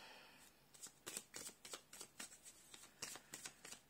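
Tarot cards are shuffled and drawn by hand in a quiet, close rhythm of quick papery flicks and riffles, soft and steady with no talking.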